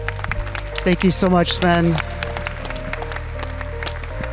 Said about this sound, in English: A huge round of applause for the incredible success